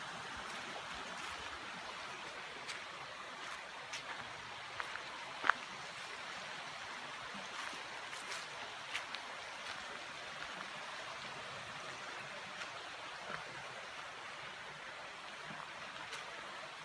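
Creek water flows steadily beside a walking trail in a steady broadband wash, moderately faint, with a few light footsteps or handling knocks and no talking.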